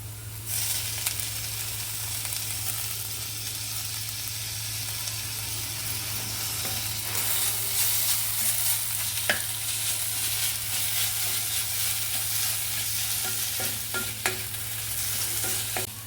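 Grated potato frying with onions in a pan gives a steady, moderate sizzle throughout, with occasional scraping and clinks of stirring close by.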